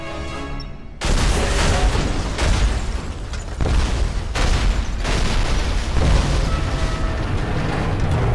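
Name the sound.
explosion blowing up pumping station in video game Alien Rage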